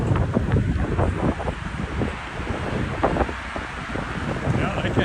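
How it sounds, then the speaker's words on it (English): Outdoors on a downtown city walk in Regina, strong gusts buffet the microphone with a loud, continuous low rumble and roar that does not let up. "It's quite breezy though."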